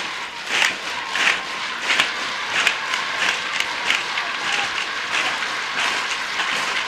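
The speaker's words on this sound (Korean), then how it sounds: "드넓은 경기장에 우렁찬 환호가 터져올랐습니다" A large football stadium crowd roars and claps after a goal in a broad, sustained wash of noise, swelling in bursts from a distance.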